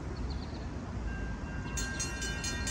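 An Amtrak passenger train rolls through Lockport, Illinois, with a steady low rumble of wheels on rail and a faint, thin tone overhead, heard from trackside at moderate distance.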